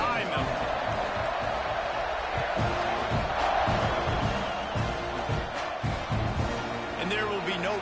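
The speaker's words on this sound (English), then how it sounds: "this crowd now ready to get behind them" Football stadium crowd roaring before a fourth-quarter kickoff after a tying score, a broad, loud sustained rumble of many voices with a commentator talking over it.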